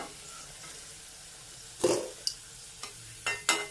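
Bitter gourds frying in a pan, with a soft sizzle under several sharp scraping, clattering stirs of a utensil against the pan, close by and irregular.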